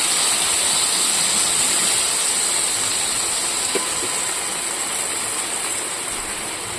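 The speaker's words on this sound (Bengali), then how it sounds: "এবার দিয়ে দেবো জল।" Water poured into a hot pan of curry sets off a loud, steady rushing hiss of steam that holds nearly unchanged for several seconds before easing slightly, with no voices.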